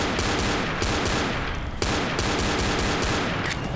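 Rapid pistol shots in the video game Left 4 Dead, a dense run of loud, close reports firing back to back with a brief break midway, no talk over them.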